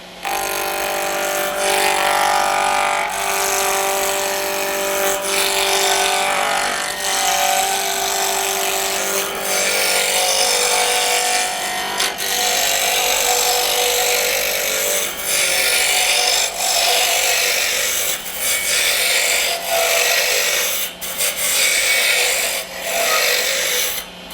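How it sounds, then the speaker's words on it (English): A spindle roughing gouge cutting a wood blank spun between centres on a lathe, a continuous loud close scraping and rasping with a steady motor hum and brief pauses as the tool shifts. "we're going to rough it out with a spindle roughing gouge"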